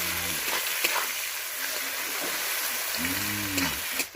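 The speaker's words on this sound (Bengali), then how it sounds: "পেঁয়াজটা একটু লাল লাল করে ভেজে নেব।" Chopped onions fry in a pan for a duck curry, a steady close sizzle with soft stirring scrapes, while a voice briefly hums or speaks in the background.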